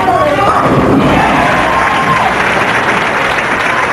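Crowd at a professional bowling tournament, the 1995 Detroit Open, bursting into loud, sustained applause and cheering with scattered shouts, filling the whole stretch without a break.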